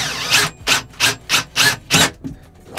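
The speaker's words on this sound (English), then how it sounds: "get the drill bit on there, and we're just gonna get the drill through the other side" A power drill fitted with a hole saw cuts into a boat part in six steady, loud rasping bursts, each about a quarter second long and evenly spaced, with no talking over it.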